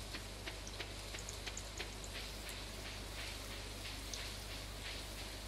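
Steady rain falls in the Stardew Valley video game, a constant soft hiss with light scattered drop ticks over a low hum, continuous and alone.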